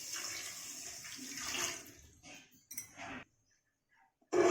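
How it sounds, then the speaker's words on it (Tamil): Water pours and splashes in bursts, fairly close, with brief pauses and a clink of a vessel at the end. "சேர்த்திட்டு கொஞ்சம் தண்ணி ஊற்றிக்கலாம்."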